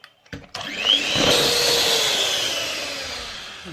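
An electric mixer whisks cake batter after milk and oil are added: a few soft clicks, then a steady, loud, whining motor hum that holds and slowly fades.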